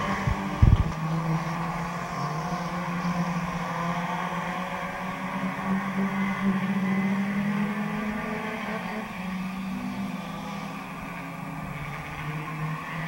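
Race cars circle Midvale Speedway in a steady, droning pack of engines heard from trackside, with a sharp bump near the start and a continuous roar holding for the rest of the stretch.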